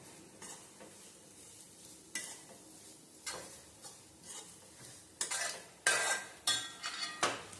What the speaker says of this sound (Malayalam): ഇതെല്ലാം കൂടെ നന്നായിട്ട് നമുക്കൊന്ന് മിക്സ് ചെയ്യാം